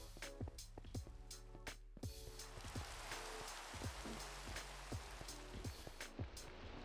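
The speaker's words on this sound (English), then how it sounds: "I swear it rains every day in this world." Rain falling in a video game world: a quiet, constant hiss of rainfall with soft, evenly spaced tapping sounds running through it and no voices.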